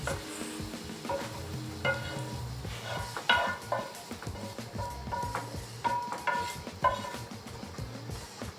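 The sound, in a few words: stirring squid stuffing of onion, garlic, tentacles and chorizo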